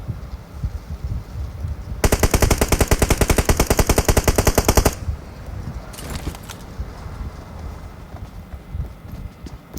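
Rapid burst of automatic gunfire in PUBG Mobile, a dense rattling string of shots lasting about three seconds, followed by a shorter burst a moment later.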